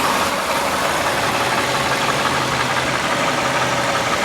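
A 2003 Chevy Malibu sedan with under 100,000 miles idles steadily. The engine hum is loud, close and even, with a broad whirring wash and no talking.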